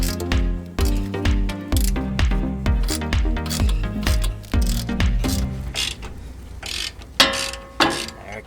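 Ratchet wrench cracking loose a 21mm bolt during a Toyota 4Runner lift kit install: close, rapid metallic clicking in repeated strokes, with sharper clunks between bursts.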